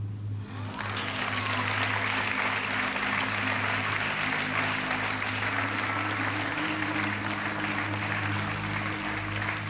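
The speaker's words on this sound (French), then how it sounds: "Applaudissements." Sustained studio audience applause on a French game show, dense steady clapping that swells after the first second and holds strongly throughout, with a low hum from the studio beneath it.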